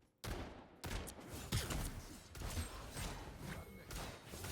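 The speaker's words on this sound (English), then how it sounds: "Let's take out our shotgun." A shotgun fires in the video game Marvel Rivals, several heavy blasts and thuds in quick succession over a busy background of game effects, with no talking.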